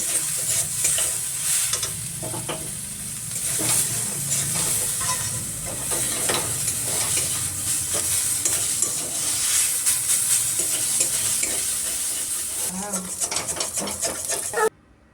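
Fried masala mushrooms with salt and chili powder are stirred in a hot pan, with a loud continuous sizzle and hiss and steady scraping of a spoon, close up, ending abruptly.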